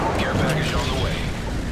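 Airstrike explosions in Call of Duty MW3 rumble continuously, a loud, dense roar of overlapping blasts and booms with no clear gaps between them.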